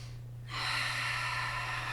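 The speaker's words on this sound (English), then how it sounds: "take a deep breath in and a long exhale" A single deep breath in, heard close as a sharp airy intake after a brief lull, then continuing as a long, steady breathy rush over a low hum.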